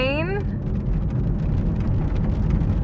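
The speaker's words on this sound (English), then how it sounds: "You guys hear that rain?" Heavy rain pours steadily in a dense, continuous hiss during a hot spell, loud and close, after a brief rising electronic tone at the start.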